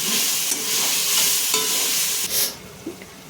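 Fresh mint and coriander are stirred in hot ghee with ginger and garlic: a bright frying sizzle under close spatula scrapes and stirring, then a brief clack near the end.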